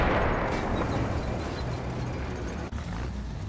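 A tank cannon booms in Men of War Assault Squad 2, a loud blast at the start that rolls off into a long rumbling decay, with a brief sharp crack later.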